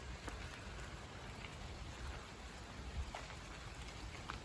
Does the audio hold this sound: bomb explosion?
no